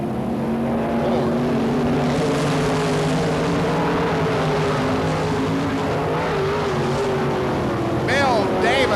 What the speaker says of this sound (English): Joran Boyce now motors up on the tail of the Larson car.